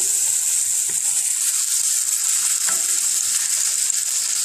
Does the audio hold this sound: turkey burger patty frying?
yes